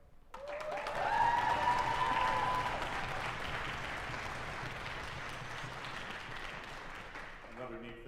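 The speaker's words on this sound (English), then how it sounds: "I'm doing this so they all get a chance on stage to applaud for all of you" Audience at a string music camp finale concert applauding its young string players, a broad steady wash of clapping that swells early and holds, with a whistle and a voice briefly audible over it.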